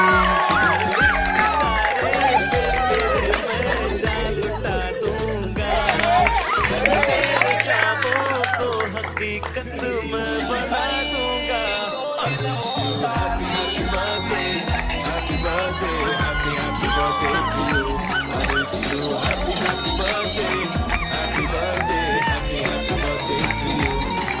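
A crowd at a birthday celebration claps and cheers for Pappu bhaiya, a sustained burst of applause and whoops mixed with chatter, music and people talking.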